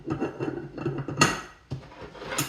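Metal clinks and taps at close range as a snap ring goes onto a clutch pressure plate during assembly, several sharp chinks and scrapes in an uneven rhythm.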